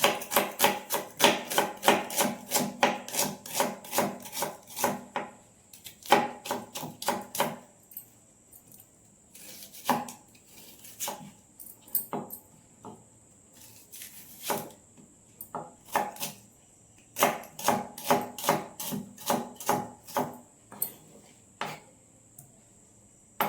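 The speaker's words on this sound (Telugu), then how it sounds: "పప్పులోకి తిరగమాతకి ఆనియన్స్ కట్ చేసి పెట్టుకుంటున్నాను." A knife chops onions on a board for dal tempering, rapid even bursts of crisp taps. Short pauses and scattered single cuts break up the bursts, close and clear with no talk.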